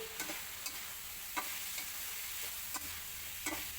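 Vegetable stalks going into spiced masala frying in a pan, a faint steady sizzle with a few soft scrapes and clicks of stirring at intervals, quiet and without speech.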